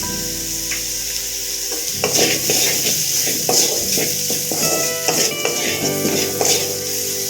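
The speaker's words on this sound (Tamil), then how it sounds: "இந்த உருளைக்கிழங்கோட இந்த கலவை சேர்ந்து வரணும். நல்லா புரட்டி விடணும்." Potatoes tossed with a ground spice mix in a frying pan for a Nellai-style potato curry, a steady sizzle running throughout with repeated scraping stirs and clinks of a utensil against the pan from about the two-second mark.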